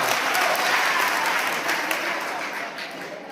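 Loud, sustained clapping rises from a school crowd after an anti-addiction play, dense and even at first and then gradually fading.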